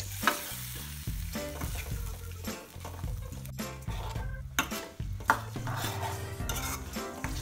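A pan of goat liver and paneer gravy bubbles and sizzles steadily while a utensil stirs and clinks against the metal, close and fairly quiet, with no voices.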